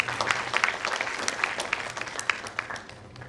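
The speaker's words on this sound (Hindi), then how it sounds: "उनके लिए भी एक जोरदार तालियां हो" A seminar audience claps in a dense, lively burst of applause that fills the room, loud and sustained throughout before starting to taper at the end.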